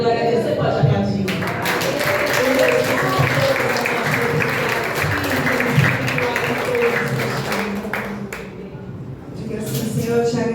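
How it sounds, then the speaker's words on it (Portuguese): A church congregation claps during a worship service, a broad wash of applause that rises and fills several seconds over a voice and background music, then fades. "você pode aplaudir"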